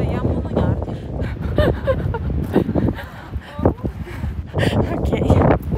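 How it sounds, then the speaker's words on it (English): Strong wind on a clifftop in the west of Ireland buffets the microphone in heavy gusts while people talk nearby, the roar rising and falling throughout. "the weather being really windy"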